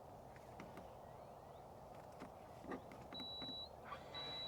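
Electric deployable tow bar motor on a Land Rover Defender SE Dynamic 250 whining thinly in two short bursts, a steady high motor tone rising over a quiet outdoor background with faint clicks.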